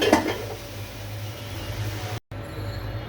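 Poa fish dropped into a pan of spice masala: a brief clatter at the start, then a steady low frying hiss and hum that carries on to the end.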